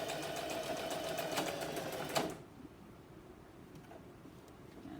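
Singer Heavy Duty sewing machine running steadily as it stitches a seam, a loud continuous buzzing whir that stops abruptly about halfway through, leaving quiet room noise.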